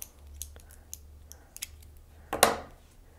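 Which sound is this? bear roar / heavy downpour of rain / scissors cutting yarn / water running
scissors cutting yarn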